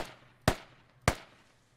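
Two sharp, loud rifle shots about half a second apart in the tactical shooter Squad, in woodland, each with a short fading echo and no talk.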